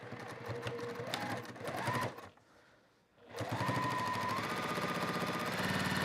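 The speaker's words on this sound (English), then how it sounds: "I'm just going to sew down the left side and the right side with about 1/4 of an inch seam allowance" Sewing machine running up the side seams of a quilted fabric basket at a quarter-inch seam allowance, a steady close whir that pauses briefly midway and then resumes, with no talking over it.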